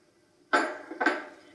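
A bowl of batter, wet mixed into dry with pecans, is stirred by hand, giving two short, close scraping clinks of utensil against bowl.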